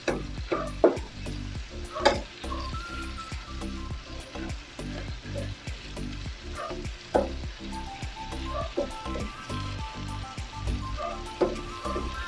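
Cabbage with oyster sauce is stirred in a hot pan, a continuous sizzle broken by sharp scrapes and clatters of the utensil at irregular intervals, with faint background music.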